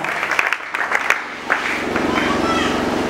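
A church congregation applauds and cheers in praise of God, with loud clapping and crowd acclamation swelling into a sustained roar of voices and applause.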